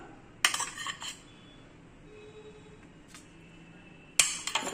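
Steamed kozhukattai dumplings being lifted onto a plate, with a few clinks of metal utensils at the start and a sharper clatter near the end, the scraping and tapping separated by a quiet stretch.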